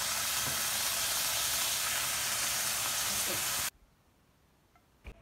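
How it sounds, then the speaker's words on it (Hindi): Chicken sizzling loudly in oil in a pan, a dense steady frying hiss that cuts off abruptly, leaving a quiet room with a faint clink. "मैंने एक पैन में थोड़ा सा ऑयल ले लिया, करूंगी क्योंकि मेरी व्हाइट सॉस रेडी हो चुकी है, मैं चिकन को थोड़ा सा सेपरेटली भूनूंगी"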